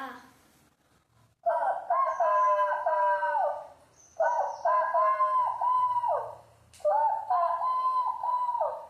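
Three loud, drawn-out crows in a row, a voice imitating a rooster's cock-a-doodle-doo, each call separated by a short pause.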